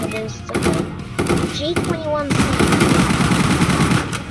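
Rapid automatic gunfire rattles in dense bursts in a zombie shooter video game, loud and continuous, with brief gaps and synthetic tones, while a player talks over it.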